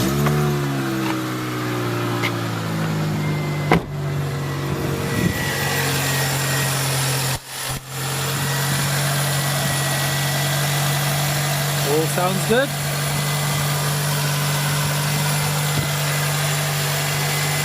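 A Toyota Celica VVTL-i engine cranks, catches and settles into a steady idle after lift bolt replacement, with a brief voice speaking over the running motor.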